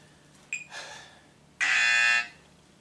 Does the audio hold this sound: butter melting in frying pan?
no